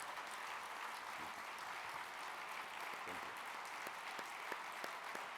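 Steady applause from a conference audience, fairly quiet and even, with a few sharper claps standing out near the end.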